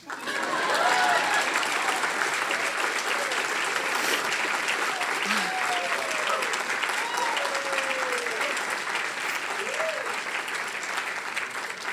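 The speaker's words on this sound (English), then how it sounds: "That's where you can clap." Sustained audience applause fills a keynote at a Seattle awards event, steady and dense throughout, with a few faint voices calling out above the clapping.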